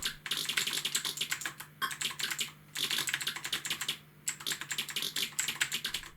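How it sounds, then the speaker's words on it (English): Fast typing on a keyboard with modern mechanical keys for a Spectrum computer: dense, loud, close clicking in bursts separated by short pauses, with a faint steady hum underneath and no talking. "the sound of the keys can be quite loud, because these are modern mechanical ones."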